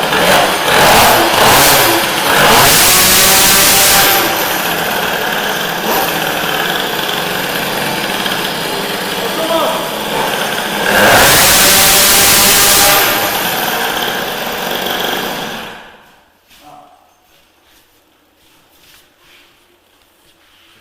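A Peugeot 103 SPX-R moped engine revs up from a start in loud, close bursts, with two sharp high-pitched surges before it drops to a faint idle near the end. A voice speaks briefly at the start.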